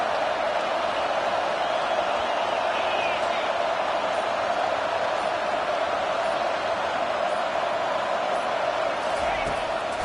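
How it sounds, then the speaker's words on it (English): A loud football stadium crowd roars steadily on third down during a Canes game, a dense, constant wall of noise from start to finish. "Third down, and this crowd is tearing the lid off this place."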